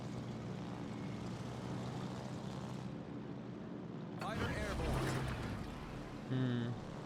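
Dive bomber aircraft engines from a Japanese aircraft carrier's air group in the World of Warships naval battle game, a steady propeller drone that swells louder midway and ends in a brief burst, with game effects in the mix.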